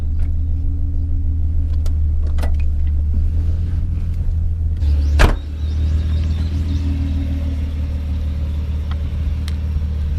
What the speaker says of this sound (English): so that's your 300ZX, just letting it idle and cool down